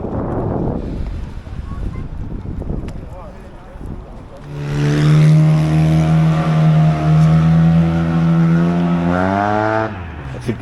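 Scooter engine revving loudly as it passes near Lake Como, a rising whine that fades. Wind buffets the microphone at the start.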